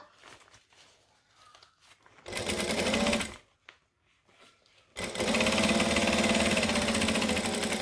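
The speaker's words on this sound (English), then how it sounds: "And then we're just going to sew it shut." Sewing machine stitching a pouch lining shut, running in two steady bursts of rapid mechanical whirring with a short pause between, close and loud.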